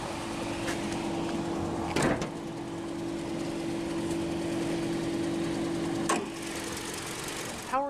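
A 2020 Toyota RAV4 XLE AWD with a naturally aspirated all-aluminum Dynamic Force 2.5-liter inline-4 idles with a steady, even hum, broken by two sharp clicks.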